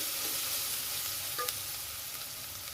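Green chillies fry quietly in a pan over a low flame, giving a soft, continuous sizzle with a faint clink partway through and no talking.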